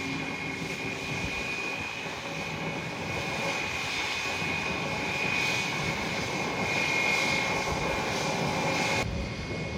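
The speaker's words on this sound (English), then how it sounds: "Taxiing via Sierra towards runway 8." An American Airlines A321 airliner taxis toward runway 8 at San Juan's international airport, its jet engines a continuous, fairly loud drone with a steady high whine that swells slightly, then cuts off abruptly near the end.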